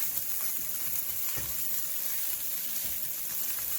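Taco shells for birria tacos sizzle in hot oil in a pan, a steady close crackling hiss with a couple of soft thumps as the shells are flipped, no talking.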